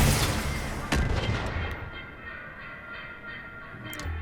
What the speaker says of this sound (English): let's see how far one missile brings it down